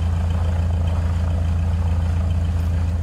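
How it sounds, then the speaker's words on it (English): A Mooney M20R piston aircraft engine idles steadily in Microsoft Flight Simulator, a loud, constant low drone with a heavy rumbling bass throughout and no talking. "let's listen to this engine"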